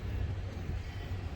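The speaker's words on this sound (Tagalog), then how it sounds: "Malakas yung hangin." Strong wind outside a church makes a steady, fairly quiet low rumble of gusts buffeting the microphone, with no one talking.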